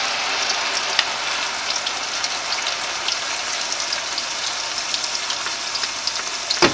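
An egusi mixture with onions, garlic and scotch bonnet frying in hot oil, giving a steady, dense, close sizzle with scattered crackles and pops throughout, no voices.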